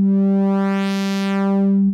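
Cherry Audio Sines synthesizer playing a sine oscillator with width modulation: a loud, steady sustained tone with a rich stack of buzzy upper harmonics that swell toward the middle, held alone for two seconds.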